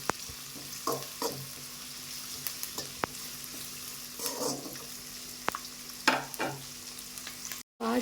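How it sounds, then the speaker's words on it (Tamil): Dried red chillies and curry leaves sauté in a pan for oyster mushroom gravy, a faint steady sizzle broken by occasional stirring scrapes and a brief cutout near the end. "அப்புறம் அதுலேயே வரமிளகாயும் கருவேப்பிலையும் சேர்த்துக்கலாம். ஒரு வதக்கிக்கலாம்."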